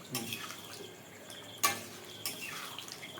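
A lid set down on a cooking pot of potatoes gives one sharp metallic clank, close and alone, with lighter kitchen clatter before and after.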